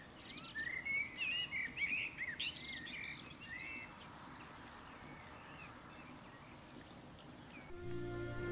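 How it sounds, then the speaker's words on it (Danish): Morning birdsong in Rüdesheim, with faint thin chirps and warbling calls over a soft, steady outdoor background hiss, sparse and distant without voices. "De morgenfriske kan nå at nyde fuglesangen i Rüdesheim"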